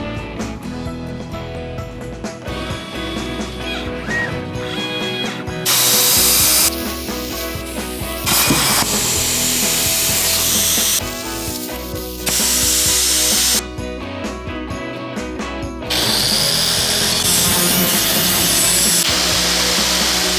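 A plasma cutter slices rectangles from 3/16 steel plate in a shop. Loud hissing bursts of cutting alternate with steady mechanical background noise over about twenty seconds.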